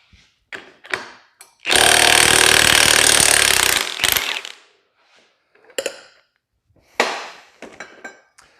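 A pneumatic impact gun drives an Astro Tools exhaust stretcher inside a bent stainless steel exhaust pipe, a loud sustained rattling burst of about two seconds between short metallic clanks and knocks.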